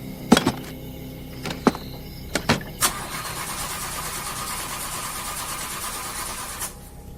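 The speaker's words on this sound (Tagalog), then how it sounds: "Sinubukan nilang paganahin ulit, pero hindi na talaga ito umandar." A car engine cranks in several short, separate bursts that fail to catch, then turns over into a steady close idle. The idle cuts off near the end.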